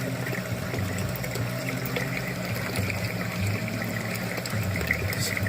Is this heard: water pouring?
yes